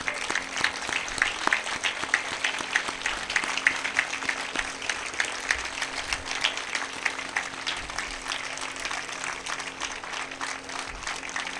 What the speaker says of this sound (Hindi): आप खड़े होकर ताली बजाकर शेखर जी का अभिनंदन करो इस काम के लिए